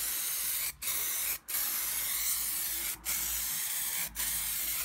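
An aerosol spray can hisses steadily as it paints a motorcycle wheel on a cafe racer build, in four long continuous bursts broken by brief pauses, close and fairly loud with no talking.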